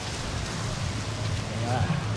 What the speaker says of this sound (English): A little bit rainy.